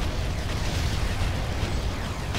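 A destroyed Hoverdyne explodes in the Ground Control strategy game with a dense, rumbling blast that sustains loudly throughout the moment and has no clear onset or fade.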